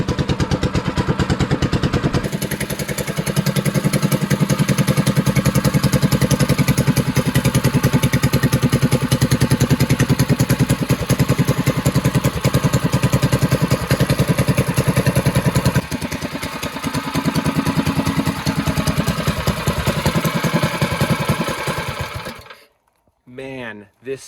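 Predator 212 engine with a Mikuni carburetor running on a Monster Moto minibike, a loud steady close-up rattling putter that holds for over twenty seconds before cutting out abruptly.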